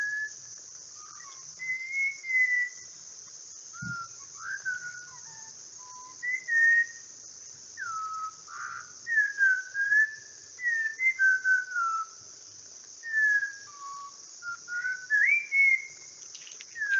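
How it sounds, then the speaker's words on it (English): Malabar whistling thrush song recorded in a schoolyard: a series of clear, fluid whistled phrases rising and falling at irregular intervals, moderately distant, over a steady high insect drone with no talk. "I think this is a Malabar whistle."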